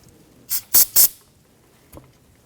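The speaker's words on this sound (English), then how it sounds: "I'm going to spray this down a little bit of solvent" Three quick, loud hissing bursts of aerosol solvent spray in close succession on car front brake parts, followed after a pause by one brief, fainter spritz.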